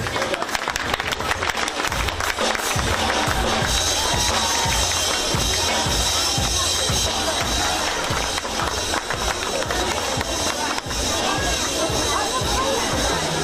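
Audience applause at an outdoor award ceremony during the 2015 Sharvili festival in Suleyman-Stalsky district, Dagestan: a dense, steady wash of clapping that fills the whole stretch without pause, with crowd murmur mixed in.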